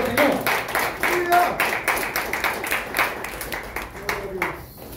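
A church congregation claps, making a rhythmic, moderately loud patter of many hands with a regular beat and some voices mixed in.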